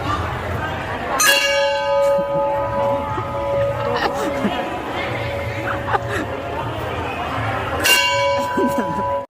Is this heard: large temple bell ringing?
yes